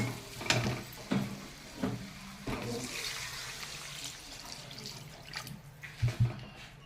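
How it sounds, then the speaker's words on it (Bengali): Water pours into a pan of fried spices for a Bengali curry, a steady watery rush with a few splashing bursts and drips, close and moderately loud with no talking. "এখন আমি জলটা কিন্তু দিয়ে দেবো।"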